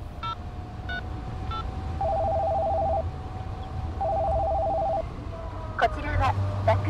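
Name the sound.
mobile phone dialing to call the police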